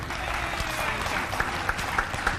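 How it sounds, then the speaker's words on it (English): Audience applause at an outdoor ground breaking and ribbon cutting ceremony for a county justice center; steady dense clapping from a crowd, with a few sharper louder claps standing out. "She deserves another round of applause for doing that."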